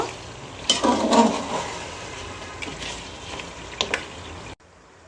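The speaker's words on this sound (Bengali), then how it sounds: "এবার মাংসটাকে সুন্দরভাবে আবার নাড়াচাড়া করে নিব" Beef bhuna being stirred in a pan, with scraping and sizzling bursts from a utensil, louder near the start and then intermittent scrapes before the sound cuts off.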